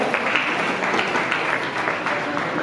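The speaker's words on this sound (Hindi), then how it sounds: "जोरदार ताली बजाएंगे आप लोग," Applause at a farewell and honour ceremony for a district programme officer in Muzaffarpur, a steady dense patter of many hands clapping from a nearby audience, continuous for a few seconds.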